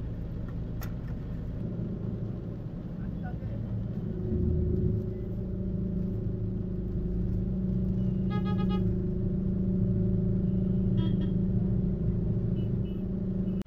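A car rolls in to park near the sea at Dhanushkodi, its engine a steady low rumble throughout with a slight swell partway as it moves in, a faint chirp or click briefly audible over the hum.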